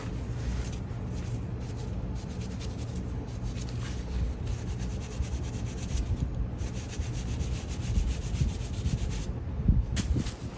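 A wire brush scrubs rust off a metal part from a Skil Model 100 surfboard planer, a steady close scratching rasp with brief pauses and strokes throughout.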